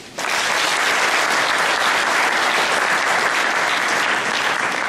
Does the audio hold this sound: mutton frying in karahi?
no